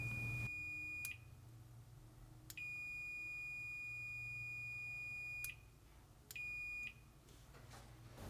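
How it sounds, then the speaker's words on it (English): A multimeter gives a series of high, steady continuity beeps while a Samsung dryer belt safety switch is tested, long and short tones starting and stopping cleanly over a faint low hum, with no talking. "When the switch is open, the meter should beep for continuity"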